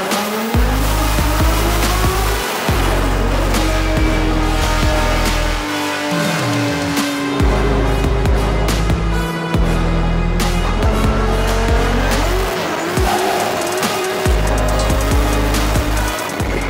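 A freshly installed Toyota 2JZ engine in a car revs hard on its first start, with loud repeated throttle blips rising and falling over a rough idle, close and unaccompanied by talk.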